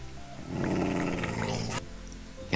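A dog growls and snarls in the game Minecraft, one sustained rough rumbling growl that rises and then breaks off abruptly, close and fairly loud.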